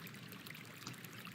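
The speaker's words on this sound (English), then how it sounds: "my water trickling was way too loud" Gentle water trickles steadily at low volume, an even, bright babbling flow with no voices or other sounds.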